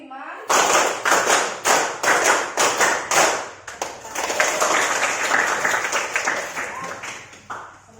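A class of students claps in a rhythmic counting pattern, sharp group claps in a steady beat followed by a denser burst of clapping, fairly close and loud, with voices mixed in.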